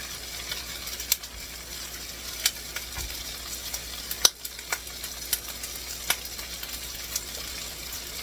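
Potatoes frying in a pan, a soft continuous sizzle with scattered sharp pops and crackles, moderately close and without speech.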